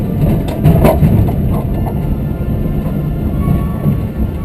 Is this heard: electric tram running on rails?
yes